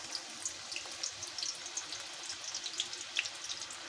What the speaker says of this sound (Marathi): तेल गरम झाले तर त्याच्यामध्ये आपण बारीक चिरलेला कांदा टाकायचा आहे